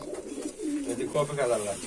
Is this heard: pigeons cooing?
yes